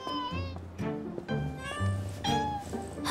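A cat meows several times in a row, loud and close, with drawn-out cries that rise and fall.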